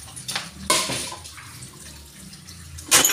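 Running water from a tap while dishes are washed by hand, a steady splashing flow with brief louder gushes and clinks near the start and at the end.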